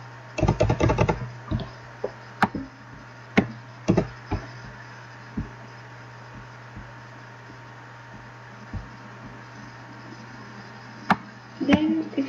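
Keys tapped on a computer keyboard while text is entered on a website editor, a quick burst of clacks at the start followed by scattered single taps and short clusters over a steady low hum.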